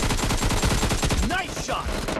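Rapid automatic gunfire in the shooter game PUBG Mobile team deathmatch, a fast burst of sharp repeated shots close and loud, then brief whooshing game effects, no voices.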